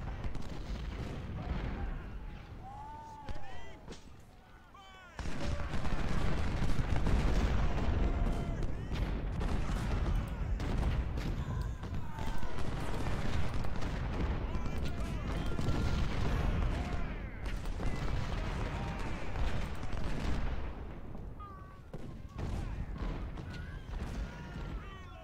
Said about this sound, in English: They just took a couple of shots to the face from some canister fire.